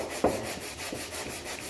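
Hand sanding the wavy edge of a wooden ukulele stand part with a sanding block, a close, steady rubbing with rhythmic strokes that recur about every half second and fill the short stretch without any talking.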